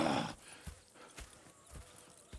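Hooves of horses in the video game Red Dead Redemption 2 clip-clop in slow, spaced beats, faint and a little distant, after a short burst of louder noise at the start.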